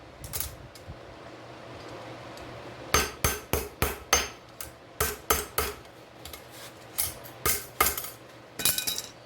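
Repeated sharp metallic hammer blows on a hot karambit blade ring out in a steady rhythm, close and loud, with brief gaps between strikes.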